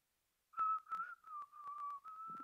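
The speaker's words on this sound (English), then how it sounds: "Stop whistling instantly," A single person whistles a short, bright tune in a stage radio play, a run of clear notes broken by brief breaths, heard close and alone after a moment of silence.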